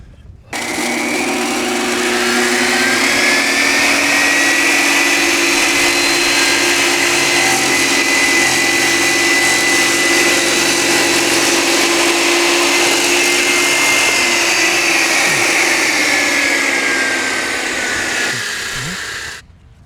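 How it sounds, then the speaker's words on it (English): An angle grinder cuts and grinds stone siding during a house siding install, giving a loud, steady, high-pitched whine that runs almost unbroken for about eighteen seconds before winding down. "or I need to grind it a little bit"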